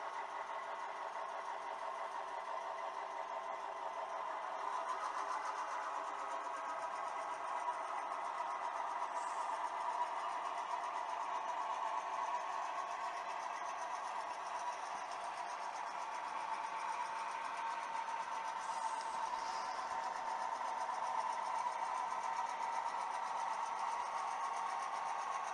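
A freight locomotive works cars in the Clairton rail yard, its engine giving a steady, even mid-pitched drone that holds for the whole stretch at moderate distance, with no voices.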